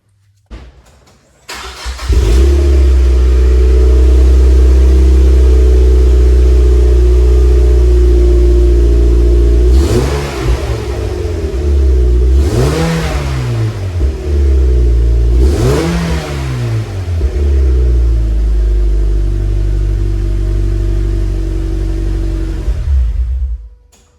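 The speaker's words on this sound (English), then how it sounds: "here's a cold start with the new Yonaka Axleback exhaust" A 2006-2015 Mazda MX-5 Miata fitted with a Yonaka axleback exhaust cold-starts and settles into a loud, steady idle, with three sharp throttle blips partway through, close and alone.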